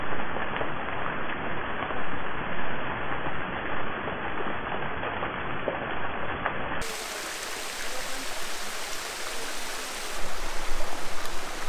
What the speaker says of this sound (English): Spring water here in Spain always comes from inside of the rock face.